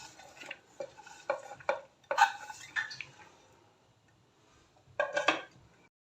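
Chopped onion, coriander, spring onion and spinach being mixed in a bowl for pakoras, with several bursts of rustling, scraping stirs separated by quiet gaps, close and fairly soft.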